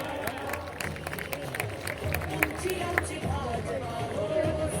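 A dense wash of clapping from a large crowd at a political rally in Navi Mumbai, steady and continuous, with a murmur of voices mixed into the noise.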